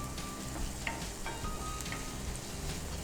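Chicken frying in a pan, a close, continuous sizzle and crackle with small pops throughout, no voices.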